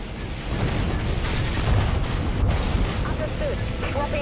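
Broadside plasma batteries on a CQB Invictus ship in Dreadnought fire as a dense, continuous roar of overlapping booms and blasts, loud and sustained throughout with faint tonal effects near the end.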